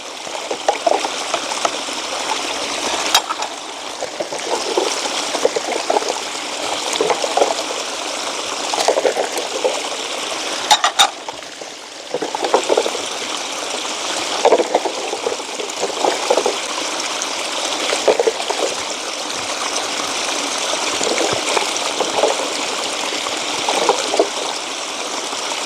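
Water from a stream flows past a bank where dishes are being washed, a loud continuous rushing and trickling close by with only brief dips and no talking.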